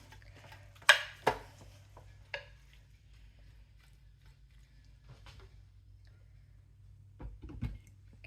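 A utensil stirs browning beef for a slow cooker stew in a pan, giving two sharp metallic clinks early, a lighter tap, then quiet before soft scraping near the end.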